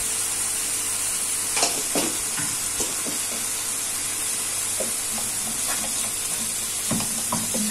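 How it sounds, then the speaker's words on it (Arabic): Spices stirred into a sizzling mixture in a frying pan: a steady hiss of frying runs throughout, broken by repeated scraping strokes of the spoon across the pan, close up and with no talk. "نحركو هاد التوابل مع الخليط"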